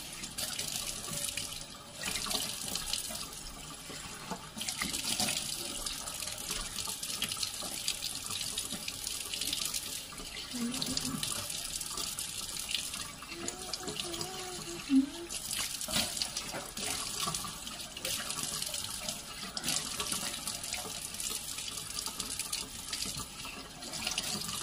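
Tap water runs into a sink for face washing as an uneven splashing hiss that starts and stops in bursts, faint and close, with a voice speaking softly at times.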